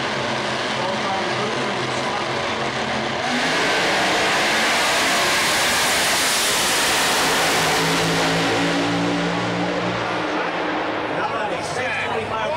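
A drag racing car at the 2004 NHRA Thunder Valley Nationals heads-up event roars down the quarter-mile, a loud sustained engine howl rising in pitch, with an announcer talking over the track noise throughout.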